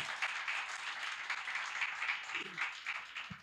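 Church congregation clapping for the Lord during a Christmas sermon, a fairly quiet, steady patter of many hands across the whole stretch with a brief voice sound near the end.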